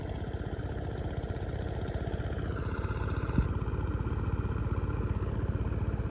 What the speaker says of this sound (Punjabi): ਟਰੈਕਟਰ ਤਾਂ ਲੌਂਕਦਾ ਆਉਂਦਾ ਯਾਰ